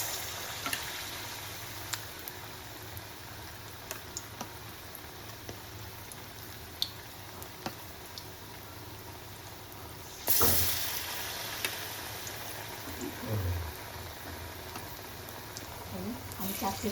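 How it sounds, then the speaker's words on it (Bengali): Batter-coated potol (pointed gourd) pieces frying in hot oil, a faint steady sizzle with a sharper splash of sizzling when a piece drops in, then soft stirring sounds. "এখন আমি ব্যাটার দিয়ে ভরিয়ে একটা একটা করে পটল ভেজে নিচ্ছি।"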